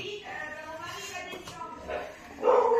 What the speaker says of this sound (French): si vous entendez quelqu'un aboyer, c'est mon autre chien